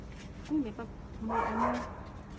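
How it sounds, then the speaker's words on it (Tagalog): A dog gives a couple of short barks and yips, moderately close, followed by a longer whiny vocal sound over faint background noise. "Para may aso. Gutom na rin yung aso."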